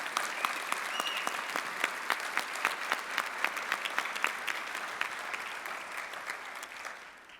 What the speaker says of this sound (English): please give an applause for Father Richard Estrada